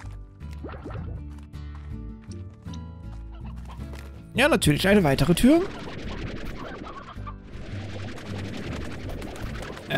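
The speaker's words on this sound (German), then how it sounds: "Ich möchte doch nur ein paar Hühner mitnehmen." Chickens clucking in the video game Slime Rancher, repeated soft clucks and a loud burst of squawking flutter midway, with someone talking over the game sounds.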